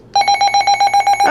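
A Midland HH54VP handheld weather radio plays its alert test tone, a loud, steady electronic beep that pulses in rapid even bursts for about a second before cutting off, close to the microphone.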